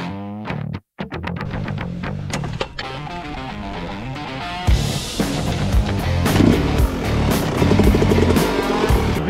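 A Yamaha YZ 125 two-stroke dirt bike rides slowly around a motocross track at Chartrainvilliers, its engine buzzing and revving in uneven bursts, rising and falling close by, with a brief dropout early on and a rougher, louder stretch later.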